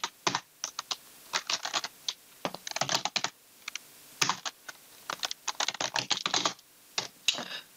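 Computer keyboard keys clatter in quick irregular bursts while text is entered into an Excel spreadsheet. The keystrokes are close and crisp, separated by short pauses.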